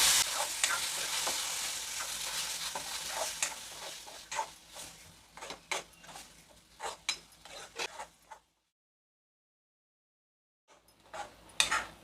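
Ground masala paste is stirred into a spice tempering in a pan for a Malvani-style fresh cashew curry. Scraping stir strokes ride over a close, crackling sizzle, then drop to a silent gap before resuming briefly.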